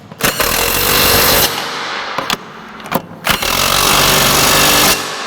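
Power tool tightening frame connector brackets under a Ford Fox Body Fairmont, running in loud rattling bursts of about a second or two, broken by short pauses and clanks.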